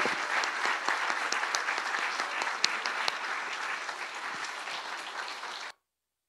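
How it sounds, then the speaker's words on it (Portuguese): A church congregation applauds during a baptism and new-members service, steady even clapping filling the room for several seconds before it cuts off abruptly. "vamos, meus irmãos, dar uma salva de palmas,"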